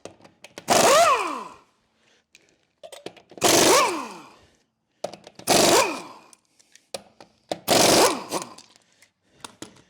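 An impact wrench removes a car wheel in a garage, firing four loud hammering bursts at a steady rhythm with short pauses between them and faint clicks in the gaps.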